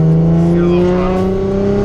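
A turbocharged Nissan Skyline R33, running too rich, revs briefly on light throttle, its loud, steady engine drone rising slightly in pitch across the short burst.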